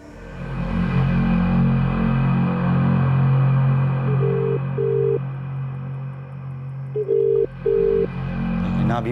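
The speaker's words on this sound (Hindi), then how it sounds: "हिना भी फोन नहीं उठा रही है यार" Phone ringing unanswered during a call, a steady ringback tone repeating in short pulses over a low hum and background music.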